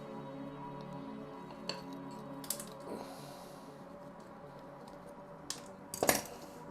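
Bonsai wires being cut shorter while repotting a small jade, a few quiet sharp metallic snips and clicks, close up, with soft handling noise between.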